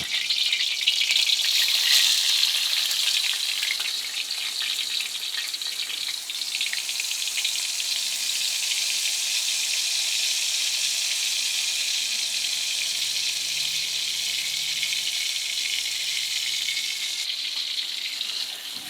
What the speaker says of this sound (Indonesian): Kita masukkan minyaknya. Kemudian tumis bumbunya.